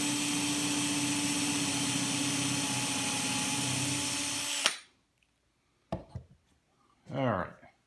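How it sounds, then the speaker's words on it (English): A power drill bores a 9/64 bit hole into a wooden tabletop, a loud steady whine for several seconds that stops abruptly, followed by quiet thumps and a brief voice. "drill the hole."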